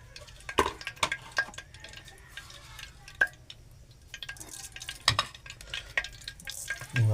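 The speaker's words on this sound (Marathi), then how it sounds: "आता मी इथे फोडणी करतो" Cumin and mustard seeds crackle in hot oil for a raw papaya vegetable tempering, making scattered close pops and clicks over a faint sizzle, with occasional clinks of a utensil against the pan and no talking.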